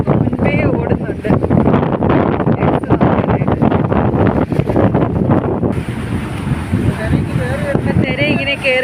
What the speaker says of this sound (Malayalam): പക്ഷെ നല്ല കാറ്റുണ്ട്.